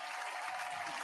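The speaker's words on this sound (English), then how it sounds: "Now that clap was for me, not Zeke." A short burst of applause from an audience, many hands clapping together in a dense, steady patter.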